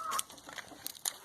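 Farmyard chickens and a rooster cluck in short, scattered calls, some nearer and some farther off, with no talking.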